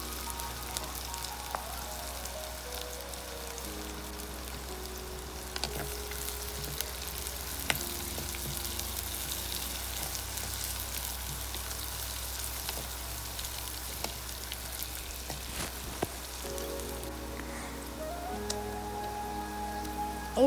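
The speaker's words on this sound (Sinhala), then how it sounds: "දැන් හොඳට මික්ස් කරන්න ඕන." Banana blossom is stirred in oil in a frying pan, giving a continuous soft sizzle with occasional scraping taps from the utensil, fairly quiet and without talk.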